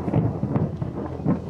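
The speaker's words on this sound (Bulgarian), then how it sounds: "гърми от време на време." Low thunder rumbles and rolls during a rainstorm near a ruined stone fortress, filling the short span with a steady, fairly loud murmur.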